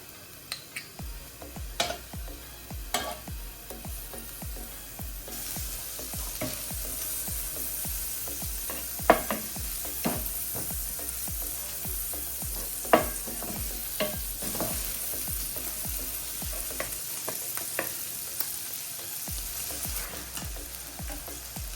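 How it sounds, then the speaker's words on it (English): Onions frying in butter in a pan, with a soft steady sizzle and frequent light clicks and scrapes of a utensil stirring throughout, some louder taps standing out along the way. "I'm going to add some onions in there. I'm going to add some butter to that."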